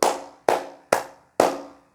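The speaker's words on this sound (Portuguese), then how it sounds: "O som de aplausos." Four slow, separate hand claps, each a sharp near smack with a short fading tail, evenly spaced about half a second apart with silence between them.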